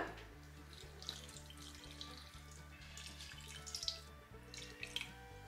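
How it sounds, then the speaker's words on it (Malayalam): Water pours steadily into mussel thoran (kallumakkaya) in a pressure cooker. It makes a continuous, moderately quiet trickling splash with a few brighter drips, and no one speaks. "ഇതിലേക്ക് വെള്ളം ഒഴിച്ച് കൊടുക്കുകയാണ്."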